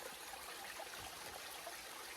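A waterfall flows beside a hiking trail in Mammoth Cave National Park, a faint, distant, steady rushing of water with no other sounds.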